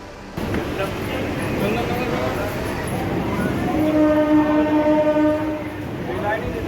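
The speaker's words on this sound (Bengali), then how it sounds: "বালি থেকে সকাল নটা তিরিশে শেওড়াফুলি লোকাল ধরে ফেলি আমরা" A Sheoraphuli local train on the suburban line out of Bally rumbles steadily along with a long horn blast midway, loud and close, while people talk over the noise.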